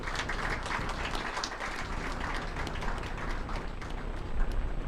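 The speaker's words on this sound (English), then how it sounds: "So big clap for her." Applause for a doctor at an ophthalmology conference's live surgery session, a steady, moderately distant patter of many hands clapping throughout with no speech.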